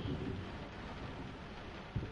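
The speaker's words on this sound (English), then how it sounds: "Listen to that rain." Steady, quiet rainfall in the video game Layers of Fear hisses evenly throughout, with a low rumble underneath and one brief soft thump near the end.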